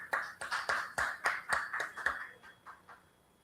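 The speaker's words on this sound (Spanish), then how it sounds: "Un aplauso para él." Applause at an economists' day event, heard as a sparse run of about a dozen distinct hand claps, close and fairly quiet, tapering off toward the end.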